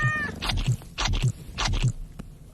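A cat meows several times in quick succession, short close calls spaced roughly half a second apart, with a faint earlier squeak before them.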